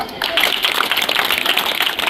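A seated audience at a district-level official gathering breaks into steady applause, a dense, even wash of many hands clapping at moderate loudness that holds throughout.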